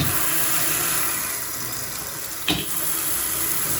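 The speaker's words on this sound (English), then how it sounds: "When you go to turn on the water for the first time, there's going to be some air pockets in there" Newly installed bathroom faucet running for the first time, a steady close rush of water into a sink that fades slightly, then a brief sharp sputter of trapped air before the flow settles.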